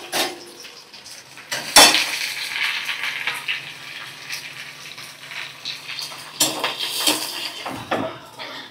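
Chopped onions frying with cumin in a pan, giving a steady soft sizzle with a few sharp clinks of utensil on pan near 2 and 7 seconds; no talk.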